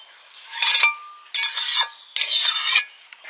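Fish curry being ladled out of a pot: three loud, close scraping strokes of a utensil against the metal, separated by short quiet gaps, with no talking.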